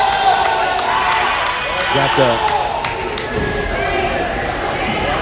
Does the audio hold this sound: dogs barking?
no